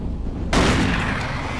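A single loud gunshot blast in Doom 3, bursting suddenly after a brief low rumble and trailing into a dense roaring decay.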